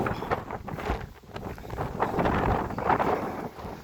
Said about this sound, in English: It's going to get breezy.